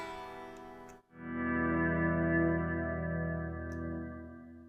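A sustained electric guitar tone cuts out briefly, then swells back in smoothly through a Mad Professor Kosmos reverb pedal in swell mode and lingers with a washy, reverberant tail.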